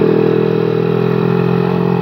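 A Suzuki Satria FU motorcycle, tuned to a 155 cc spec, hums steadily at close range while being ridden, its engine note held constant with a rough, buzzy texture and no talking.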